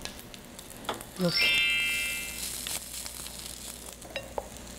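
Icheon rice and soybean-flour rice pancakes fry in hot oil in a pan, a soft sizzle that flares with a brief crackle as batter lands, under quiet Korean talk.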